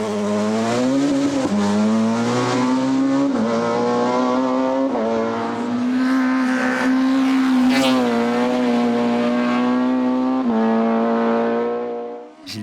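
A Honda Civic Type R race car competing in a hill climb, its engine revving hard and steadily close by, with pitch climbing through gear changes and brief dips between shifts.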